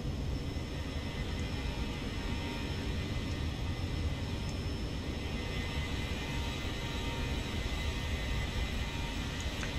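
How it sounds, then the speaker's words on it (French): Steady airliner engine drone during a climb in the X-Plane 11 flight simulator, a continuous broadband rumble with faint high whine, unchanging and alone without talk. "on va laisser notre avion monter tranquillement"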